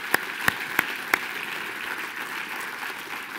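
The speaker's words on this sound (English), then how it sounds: "Let's give Angie a round of applause." A sales-meeting audience applauds for Angie, a steady, moderately faint crowd clapping throughout, with four sharp close claps standing out near the start and no speech.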